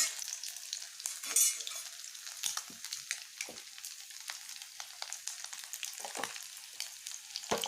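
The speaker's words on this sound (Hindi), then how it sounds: "बस इसी तरह से सारे जो अंडे मैंने काट के रखा है उसको पकौड़ा बना लेना है।" Sliced boiled egg pakoras sizzle and crackle steadily in hot oil in a pan, with occasional stirring scrapes and bursts of spattering throughout, no voices.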